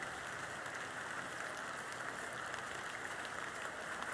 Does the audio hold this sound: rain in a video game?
yes